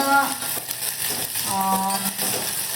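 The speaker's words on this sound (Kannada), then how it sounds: "ಮೆಣಸಿನ್ಕಾಯಿನ ನಾನು ಫ್ರೈ ಮಾಡ್ಕೊಳ್ತಾ ಇದ್ದೀನಿ" Chillies frying in oil in a pan while sambar is made with sprouted horse gram. A steady soft sizzle and hiss carries throughout, with faint stirring clinks and a little background voice.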